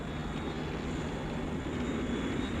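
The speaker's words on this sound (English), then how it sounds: "In a few moments, I'm going to open up my jet engines." Jet engines of a Thunderbird aircraft roar in a steady, dense rumble with a faint whine on top, continuous and fairly distant, with no voices.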